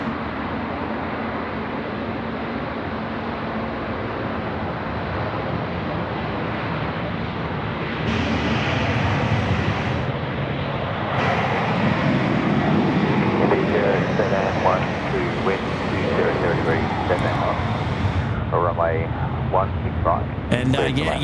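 Airliner making a rolling start takeoff at Sydney Airport in wet weather, a continuous loud jet engine roar that swells as thrust builds, heard from a spotting position with people talking over it.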